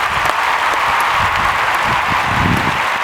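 Audience applause for award recipients at a Golden Oak recognition ceremony, a steady broadband wash of clapping lasting a few seconds with a little low rumble beneath and no voices over it.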